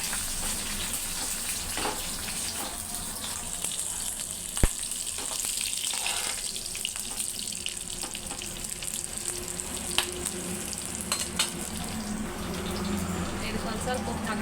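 Green chillies frying in a pan give off a steady, close sizzle for the whole stretch, with a few sharp clicks of stirring breaking through.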